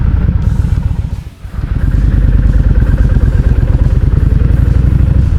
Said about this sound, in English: I'll just back my bike up in here.